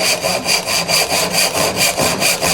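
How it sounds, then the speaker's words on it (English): A regular crosscut saw widens a groove in a wooden board, with about nine even back-and-forth strokes, close and loud, with no other sounds. "Now I'm just going to take a regular crosscut saw and make that groove a little bit wider"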